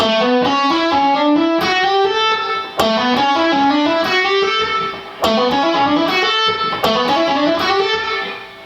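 A slow electric guitar blues lick in E with slightly overdriven tone, phrases of bending, descending notes repeated several times with short pauses between them.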